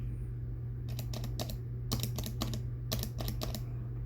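Keystrokes on a Prime T1 switch keyboard come in short clustered bursts of sharp, close clicks with brief pauses between groups, over a steady low hum.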